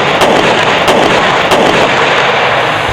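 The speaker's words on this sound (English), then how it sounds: "The chilling sound of gunfire is frightening, but it's all part of the game." Rapid, continuous gunfire crackles loudly without pause at a mounted competition, with a few sharper individual reports standing out through a dense, rumbling barrage.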